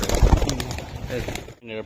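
Belgian-bloodline racing pigeons coo softly at close range under and between people talking nearby.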